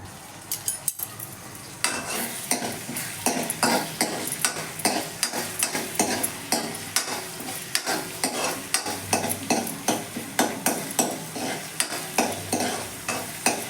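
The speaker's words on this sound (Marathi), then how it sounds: "आता हे टाकतो जिरं" Cumin seeds sizzle in hot oil in a frying pan while being stirred for a village pigeon-pea pod curry, steady frying hiss with repeated rhythmic scraping and clinks of a spoon against the pan.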